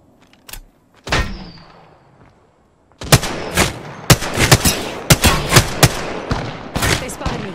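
Gunfire in the Apex Legends video game: after a couple of isolated cracks and a mechanical clack, a rapid burst of loud, sharp shots fires in an uneven rhythm, close and dominant.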